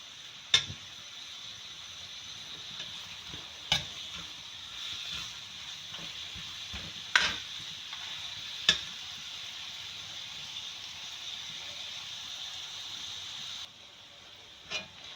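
Sliced onion frying in a pan while cooking keema with capsicum, a steady soft sizzle and hiss with occasional sharp clinks of a spoon stirring against the pan, close and quiet, with no talking.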